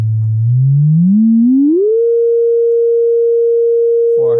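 A pure sine test tone begins low near 110 hertz and glides steadily upward, then holds one steady pitch for a couple of seconds before a brief voice cuts in at the end.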